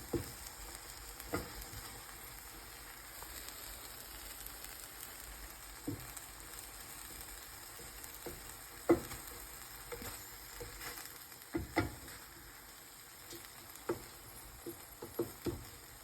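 A cheese dish simmers in a pan in a home kitchen with a faint, steady sizzle. Scattered soft pops and taps sound over it.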